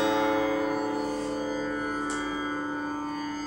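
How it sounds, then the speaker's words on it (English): A sitar's third string, heavier than the second and tuned in D, rings with a shimmering, buzzy sustain full of overtones that slowly decays, heard up close without talk. "is again slightly heavier than the second string and it sounds like this."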